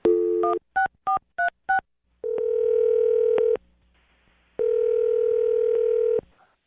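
A telephone number is dialed for a call on a radio show: a quick series of crisp touch-tone beeps, then two longer steady tones with a short quiet gap between them, loud and close.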